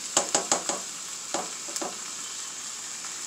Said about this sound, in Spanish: aquí ya vamos a agregar el tomate para que se nos guise